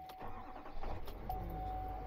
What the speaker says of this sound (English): and the truck starts.